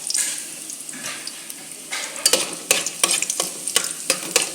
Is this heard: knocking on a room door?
no